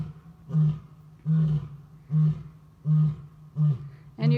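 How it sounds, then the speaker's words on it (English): A captive lion roaring near bobcat and lynx enclosures, a series of six deep rhythmic grunting roars about a second apart, loud and close, with no talking. "the bobcats aren't afraid of Chupino, the lion, roaring at all"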